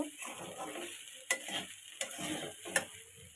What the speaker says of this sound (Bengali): চিনিটা দিয়ে খুব ভালোভাবে নেড়ে চেড়ে নেব, চিনিটা না গলে যাওয়া পর্যন্ত।